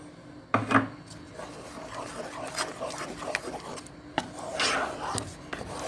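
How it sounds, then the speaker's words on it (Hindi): A spoon stirs custard in a pot with scraping and rubbing strokes against the pot, close and uneven, with a few sharper knocks scattered throughout. "कस्टर्ड हम साथ साथ हिलाते जा रहे हैं"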